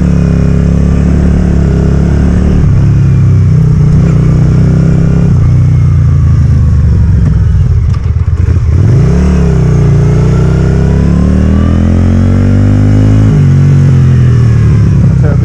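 Yamaha XV535 Virago bobber motorcycle on a test ride, its V-twin engine loud and close throughout, droning steadily with rises and falls in pitch as it accelerates and eases off.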